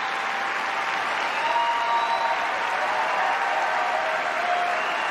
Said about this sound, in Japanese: 場内大歓声。